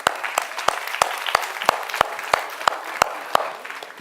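A science circus audience bursts into applause, with sharp, evenly spaced claps ringing out close and loud over a softer wash of crowd clapping.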